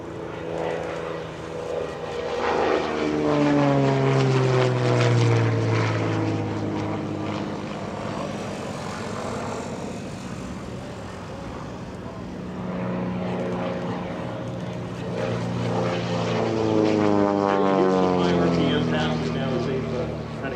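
Propeller warbirds roar past in a low-altitude racetrack pattern at EAA AirVenture Oshkosh, a deep, throaty drone that rises and falls as the planes pass and return, fairly close and loud.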